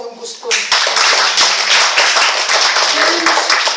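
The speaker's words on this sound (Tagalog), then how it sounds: "Pumalakpak po yung gusto." A retreat devotional audience bursts into clapping after a brief pause, with steady, dense applause filling the room and continuing to the end.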